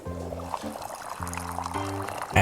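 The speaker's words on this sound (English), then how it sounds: "And we're just gonna pour this whole thing right on over." Liquid poured over in the cozy game Wanderstop while brewing strong coffee, a soft trickling flow under layered musical game tones, ending in a brighter chime.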